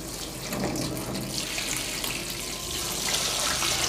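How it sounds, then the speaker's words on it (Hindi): Water pours steadily onto an Oppo F21 Pro 4G phone, a close continuous splashing stream that grows slightly louder toward the end. "इसके अंदर पानी को गिराता हूँ"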